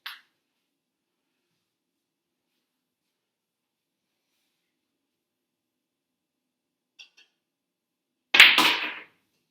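A JFlowers pool cue with a Mori tip strikes the cue ball low for a draw shot: one sharp, crisp click after near silence, with a brief rattle just after.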